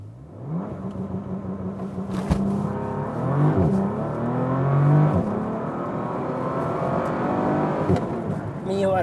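A 2019 Bentley Continental GT launches hard from a standstill with launch control, its engine surging loud and close and climbing steadily through the revs with brief gear-change dips, someone talking over it.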